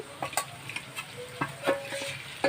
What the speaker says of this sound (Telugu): మ్యారినేట్ చేసి పెట్టిన చికెన్ వేసేస్తున్నాము